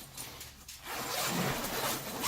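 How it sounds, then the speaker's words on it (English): A zipper runs in a short pull, then a longer, louder stretch of rasping teeth, close up with no voices. "you can zip it up from the bottom or you can zip it down from the top"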